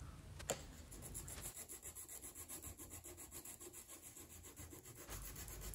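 Steady back-and-forth rasping of coarse sandpaper on plastic model airplane parts, quick regular strokes about two per second, close and fairly quiet, after a sharp tap at the start.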